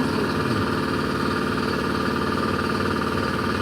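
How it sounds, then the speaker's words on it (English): An air compressor runs steadily and loudly at close range, a continuous motor drone with no pauses and no voices, in a workshop during a generator repair. "Hey Google, turn on compressor."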